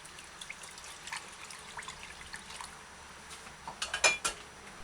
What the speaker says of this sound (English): Use your fingers. Rotate your hand from side to side and around. Wash rice properly.